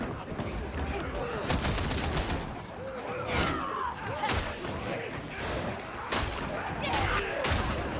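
Rapid autogun fire in the Darktide shooter game rattles in repeated bursts and sustained strings of shots, loud and close, while a player talks over the gunfire.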